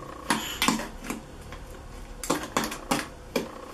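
A spoon stirs a caramel pudding mixture with a little salt and water, giving several clinking scrapes against the bowl in irregular bursts, close and fairly quiet, with no one talking.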